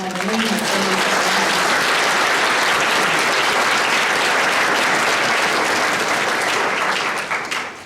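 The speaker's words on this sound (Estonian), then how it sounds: "Teeme endale aplausi," Sustained applause from a large audience at a school's 95th jubilee ceremony, loud and dense throughout, fading slightly at the very end.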